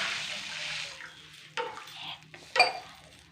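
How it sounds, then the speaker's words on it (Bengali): A glass of water poured into a pan of fried vegetables while making Maggi noodles: a short, quiet splash and trickle, followed by a few soft clinks of a utensil against the pan. "এবার 1 গ্লাস জল দিয়ে দেব"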